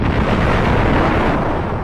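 A loud, dense explosion roar from the space combat video game Colony Wars, a rumbling burst that fills the whole short moment with no voices over it.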